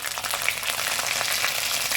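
Cumin seeds, carom seeds and ginger-chili paste sizzle in hot oil for a Gujarati dana muthiya shaak, a steady, close, dense crackling hiss that runs unbroken with no voices.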